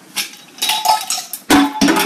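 Mustard seeds stirred with apple cider vinegar in a jar, giving a few sharp clinks and scrapes of a utensil against glass at close range, without speech.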